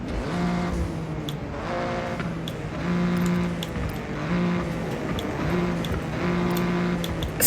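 Toyota GR Corolla rally car with an aftermarket exhaust in the Forza Horizon racing game, engine droning and revving up in repeated surges with rising gear pulls, loud and up close, no talking.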